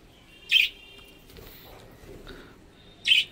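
Two short, bright chirps from pet birds ring out near the start and end, separated by a quiet stretch of faint room noise, with no talking.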